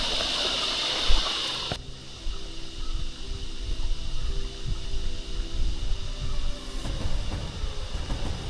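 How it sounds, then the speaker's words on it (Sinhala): Water flows steadily in a mountain stream on the Lakegala hiking trail in the Knuckles range, a continuous close gushing rush with a brief louder hiss near the start and no talking. "අනිත් ඔක්කොම දිය පාරවල් ටික හින්දිලා ගියත් මේක වතුර තියෙනවා තාම"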